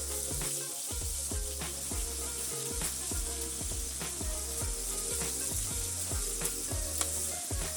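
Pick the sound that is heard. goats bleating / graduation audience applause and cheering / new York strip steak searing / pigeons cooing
new York strip steak searing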